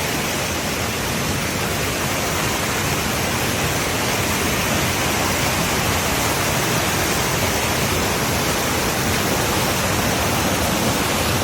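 Waterfall pouring into a river during the monsoon, a steady, loud, broadband roar of rushing water that fills the whole stretch without a break.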